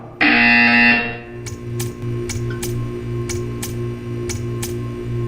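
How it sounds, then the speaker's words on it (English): A loud electronic buzzer in the game Portal 2 blares for about a second, then gives way to a string of soft rhythmic ticks over a low hum. "You will hear a buzzer."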